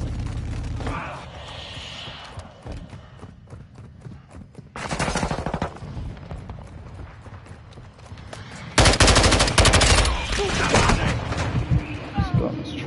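Call of Duty gunfire rattles out in rapid automatic bursts and heavy volleys, loud and close, with short pauses between strings of shots and a voice occasionally heard in the mix.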